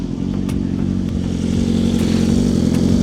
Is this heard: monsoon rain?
no